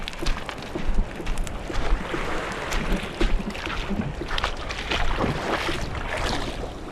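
A fishing boat travels across open water off Casiguran, Aurora, with steady churning water, hull wash and gusting wind buffeting the microphone, loud and continuous, with no voices.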